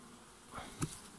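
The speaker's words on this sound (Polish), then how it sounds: "Tu mamy pszczoły." A faint, low buzz of honeybees in a hive with a couple of brief louder knocks or clicks, quiet and close, in a forest apiary.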